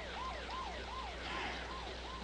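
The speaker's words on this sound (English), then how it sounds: "You call an ambulance, I gotta get there." An ambulance siren wails in rapid, regular rising-and-falling cycles, moderately distant and steady over a low background hum, with no talk over it.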